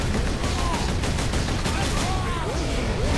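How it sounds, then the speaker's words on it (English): Rapid bolter gunfire in the Space Marine video game, a dense continuous fusillade of shots filling the whole stretch, loud and unbroken, with no clear talk over it. "Here's some bolter fire."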